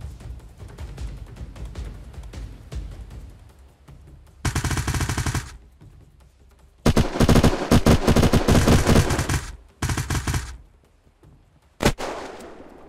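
Automatic gunfire in the video game Unturned comes in three loud, rapid bursts, each lasting about a second or more, with a single sharp shot near the end and quieter background noise between them.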